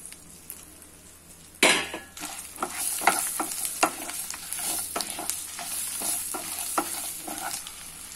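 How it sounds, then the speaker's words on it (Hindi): Ginger and green chili sauté in a pan, a bright steady sizzle that swells after a sudden addition, with repeated scraping stirs and light utensil clinks against the pan, close and alone. "अदरक को थोड़ा सा भून लिया है मैंने"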